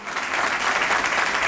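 Brief, dense applause from a small crowd fills the moment after Bill Clinton's statement as the First Lady follows, a steady patter of clapping heard fairly close with no voices.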